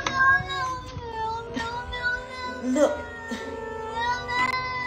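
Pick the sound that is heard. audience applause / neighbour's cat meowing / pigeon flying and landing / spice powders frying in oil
neighbour's cat meowing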